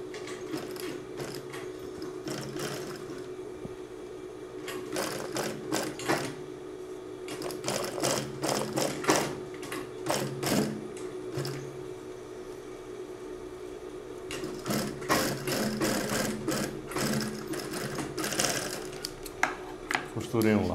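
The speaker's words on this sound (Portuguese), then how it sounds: "vou fazer uma costura toda do início ao fim dele." Sewing machine stitching a seam in denim fabric, bursts of fast rattling clatter starting and stopping over a steady motor hum, with someone talking between and over the runs.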